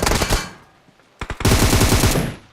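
Automatic gunfire from the mobile battle-royale game PUBG Mobile, a short rapid burst followed after a pause by a couple of single shots and a longer loud rattling volley, close and punchy.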